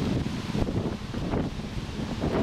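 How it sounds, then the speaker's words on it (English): Wind buffeting a microphone while cycling through open countryside near the River Sola in southern Poland, a loud continuous low rumble with gusty swells and no talking. "The weather is very good for traveling, although there is a bit of wind"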